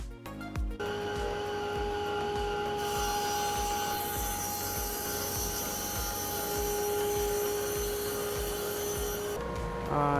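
Machine cutting a furniture board in a furniture factory, a sustained loud whine with steady tonal hum and rhythmic low thumps underneath, running continuously before cutting off near the end.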